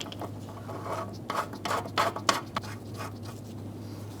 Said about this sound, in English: I'm going to put a little thread sealant on the threads and screw it in.